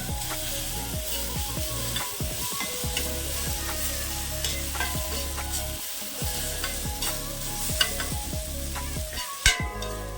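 Tomatoes sautéing in a pan for kothu parotta, a steady close sizzle with repeated scraping stir strokes throughout and a couple of sharper clinks near the end, no talking.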